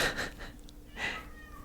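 A cat meows twice, close by, with a wheezy, drawn-out cry separated by a short pause.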